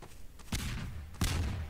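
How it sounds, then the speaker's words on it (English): Two heavy mortar impacts in Garry's Mod WWII German-occupation roleplay, each a loud booming blast with a rumbling tail, spaced about two-thirds of a second apart. "Mortar fire"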